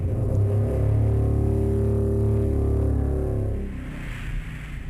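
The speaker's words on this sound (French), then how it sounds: "Ils ont mis ce son pour faire le bruit d'un démon." A demon's cry from the PS2 video game Daemon Summoner, a loud, drill-like mechanical whine with a steady low droning pitch that holds for several seconds, then drops away into a quieter rumbling tail.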